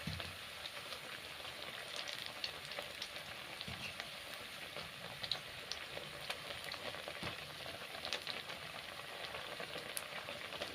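Onion fritters (peyaji) fry in hot oil at home, a steady close crackling sizzle with scattered pops running throughout, no voices over it.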